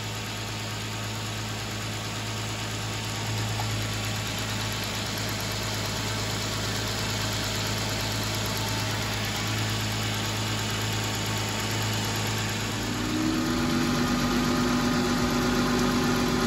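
A car engine idles steadily while the cooling system is bled through the upper radiator hose, a constant mid-pitched rumble that shifts tone slightly near the end.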